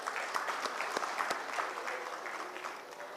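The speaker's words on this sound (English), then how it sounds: "asking everyone to give yourselves a round of applause" Conference audience at an inauguration session applauds themselves, a brisk, even burst of many hands clapping that stays steady for a few seconds at moderate volume without talk.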